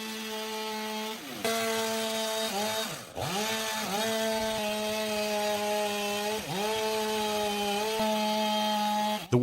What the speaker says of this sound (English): The worker uses a chainsaw to even out the edges of the logs